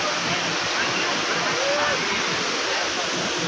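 Water feature in a shopping mall near the Haram in Mecca, flowing as a steady, dense rush like a small waterfall, loud and close, with no break across the moment.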